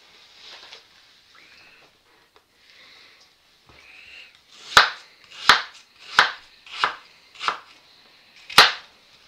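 Knife chopping through small grenaille potatoes on a board, six sharp crisp cuts in a loose rhythm, close and loud, after quieter rustling and handling.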